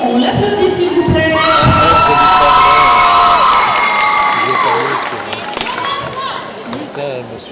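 Loud crowd at a manga festival cosplay contest cheering, shouting and clapping, with high excited voices rising and sliding over a dense wash of applause that eases off toward the end.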